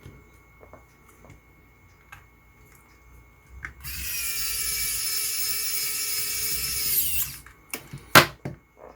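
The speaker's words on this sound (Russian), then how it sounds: "Теперь закручиваем фиксирующий болтик" A small power screwdriver drives the fixing bolt into a car alarm keychain fob during repair, a close, steady whirring buzz lasting about three seconds, framed by faint clicks and taps of handling before and after.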